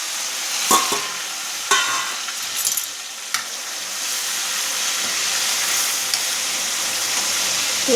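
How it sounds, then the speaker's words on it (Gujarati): Onion and garlic paste frying in hot oil with mustard seeds and cumin while being stirred: a steady close sizzle throughout, punctuated by a few sharp scrapes and clacks of the spoon against the pan early on. "આ પેસ્ટને હલાવીએ છીએ આપણે।"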